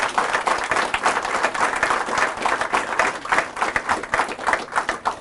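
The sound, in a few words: audience applause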